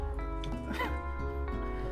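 Small cute fluffy cartoon dog barking in the KFC dating sim game, a few short yips over a steady musical background.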